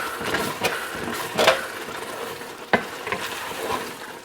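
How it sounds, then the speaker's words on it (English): A pan of pig tails and rice sizzles steadily while being deglazed with stock, the frying hiss broken by scraping and stirring sounds as a utensil works the bottom of the pan. "we're going to deglaze our pan with that at the same time. Get that nice rice off the bottom there."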